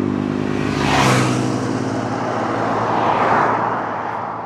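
A car sweeps past on a country lane at Newlands Corner near Guildford, Surrey, its tyre and engine rush rising loudly, peaking close by and fading slowly away, with no talk.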